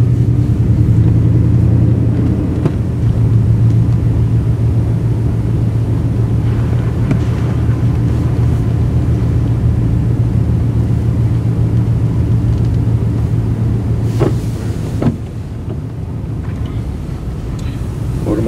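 A car rolls slowly through a parking lot with a steady low engine drone and road rumble, continuous and close, with a few brief knocks near the end.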